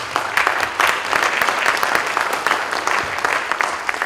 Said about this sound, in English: Please give them a round of applause for this beautiful setup this morning.